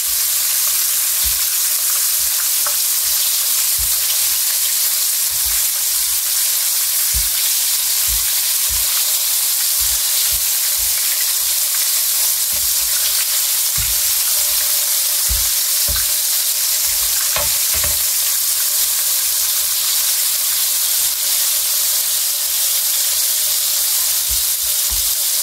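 Flour-coated food fries in a hot pan with a loud, continuous sizzle and hiss, broken by scattered soft clicks and taps from turning the pieces; no voices.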